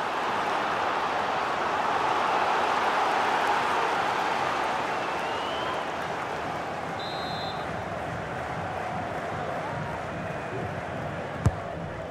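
A stadium crowd in a FIFA 22 Champions League match between Vejle Boldklub and FC Nantes keeps up a steady, broad roar that swells slightly early on, then holds at a constant level, with one sharp thud near the end.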